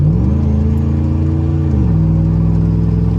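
A lifted pickup truck accelerates under steady, close engine drone while its transmission shifts gears, the pitch climbing, dropping at a gear change, then holding level at around cruising speed.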